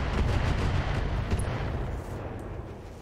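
Heavy turret gunfire in the BattleTech mech game booms in a dense, loud burst that slowly rumbles and fades over about three seconds.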